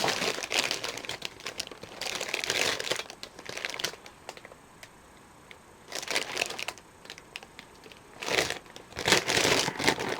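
A plastic zip bag crinkles and rustles in several bursts as a mixer is unpacked, close to the microphone, with quiet pauses between the handling sounds.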